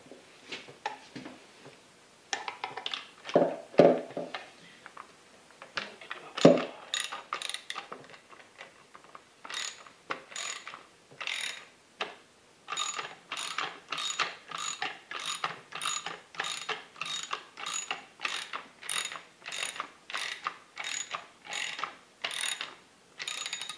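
A ratchet wrench on a 13 mm socket working on a Benelli Super Nova shotgun: rapid clicking bursts, at first irregular with a few louder knocks, then a steady run of evenly paced ratchet strokes, close and alone.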